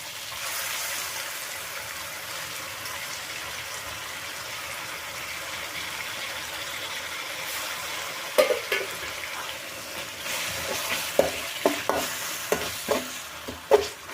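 Ground onion paste frying with tomatoes for a squid gravy makes a steady sizzle throughout, and sharp scrapes and stirs come in repeated bursts toward the end.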